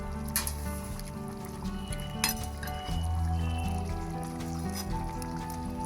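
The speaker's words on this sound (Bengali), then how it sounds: "আমার রান্নাটা পুরোপুরি কমপ্লিট, আমি এটাই ঢেলে নেব।" Cooked cauliflower chili is tipped out of a pan, with clinks of utensil on metal and a wet pouring slide, close and moderately loud.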